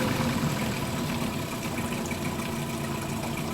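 A small Mercury outboard motor runs steadily at a low idle, a constant close-up engine drone with no voices over it.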